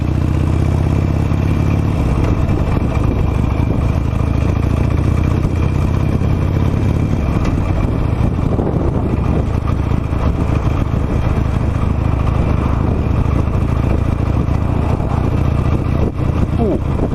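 A 17-year-old Harley Davidson Nightster motorcycle rides through Thursday afternoon city traffic, its engine rumbling loud and steady and close up, with road and wind noise throughout.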